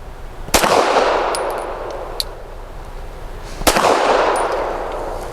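Two loud, sharp gunshots from a Canik SFx Rival S pistol, about three seconds apart, each with a crisp crack and a ringing outdoor tail, plus a few faint metallic clinks between them.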